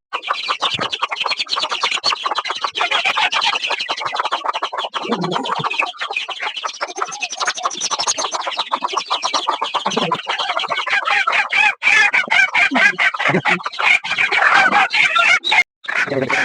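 Local chickens cluck and squawk continuously, close and loud, a busy flock sound with a voice now and then underneath.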